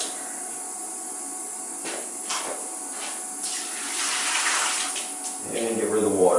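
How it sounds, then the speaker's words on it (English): Water poured out of a whole house water filter housing onto a floor drain, a splashing, gurgling pour that builds toward the end after some quieter handling noises. "And get rid of the water."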